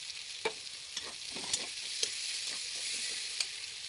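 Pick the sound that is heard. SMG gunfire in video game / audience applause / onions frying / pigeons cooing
onions frying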